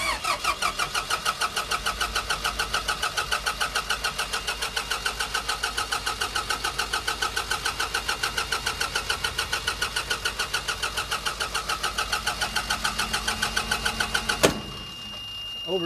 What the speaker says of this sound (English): Now it's going to crank one more time and it should go into fail to crank or over crank